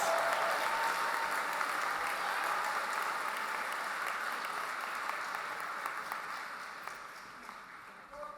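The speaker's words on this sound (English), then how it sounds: "Let's give another round of applause for our Health Sciences class of 2025 graduates." A commencement crowd applauds the Health Sciences class of 2025 graduates at the Katz School, a broad, even wash of clapping that gradually fades toward the end.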